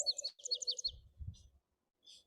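A wild songbird sings in Bixby Marshland, a few quick high chirping phrases, then a brief low rumble and a faint final call, fairly distant and alone without talk.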